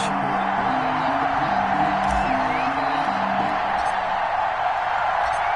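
Stadium crowd noise from an NFL video game on PS4 before a Jacksonville Jaguars versus Cleveland Browns matchup, a steady loud roar of cheering and whooping that fills the whole stretch with no let-up.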